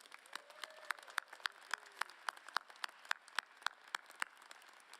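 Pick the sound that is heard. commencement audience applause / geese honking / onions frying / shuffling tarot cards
commencement audience applause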